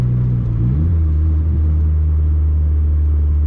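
A turbocharged Honda Civic with a D16Y7 engine driving at partial throttle under boost, a loud steady low engine drone with a slight pitch rise early on, then a constant cabin rumble.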